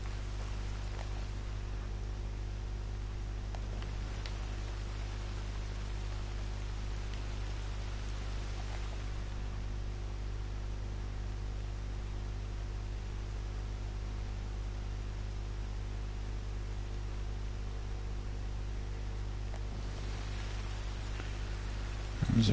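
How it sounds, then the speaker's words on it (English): Rain falls in the video game Red Dead Redemption 2 as a steady, even hiss of static-like noise that runs unbroken at a constant level over a low hum, with no voices. "Oh, now it's raining."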